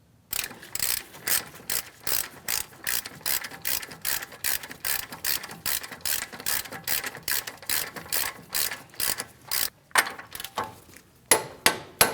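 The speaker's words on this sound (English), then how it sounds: "We'll torque it to 111 foot-pounds" A torque wrench ratchets rapidly and rhythmically, with dozens of crisp, close metallic clicks in steady bursts and brief pauses, as it tightens a front strut bolt on a Chevrolet Malibu. No one speaks.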